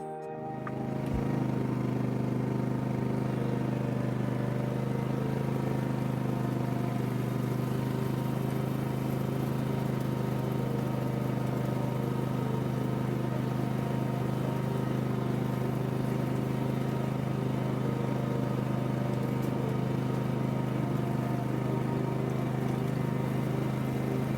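A tractor engine runs steadily while hauling a hay sweeper, giving a continuous loud droning rumble that holds even and unbroken for the whole stretch, with no talking.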